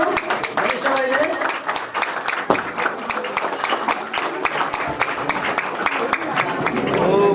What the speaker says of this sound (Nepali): ताली बजाइदियौ हामी सबैले।